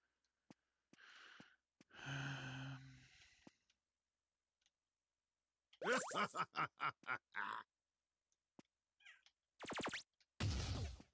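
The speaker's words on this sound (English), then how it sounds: "I guess my cat wanted something more than second breakfast" A pet cat meowing indoors, several short close meows in bursts separated by silence, some drawn out and loud, with faint clicks between.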